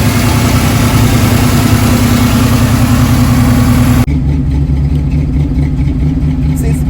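A Chevrolet El Camino engine with a newly replaced starter idles loudly and steadily up close, a constant low rumble throughout; the sound dulls abruptly partway through.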